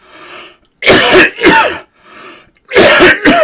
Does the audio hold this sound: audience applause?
no